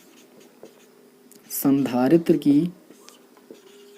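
Pen or chalk writing during a Hindi-language Class 12 physics lesson, a short scratchy stroke sequence under a voice speaking.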